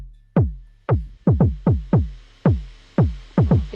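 A classic techno beat plays back alone: punchy, booming kick drums hit in a steady, slightly syncopated pattern, each decaying quickly, loud and close.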